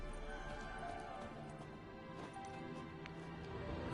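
Horse hooves clip-clop steadily in The Witcher 3 video game, a continuous rhythmic trotting under a dense, busy game soundscape with music and ambience, with no clear speech.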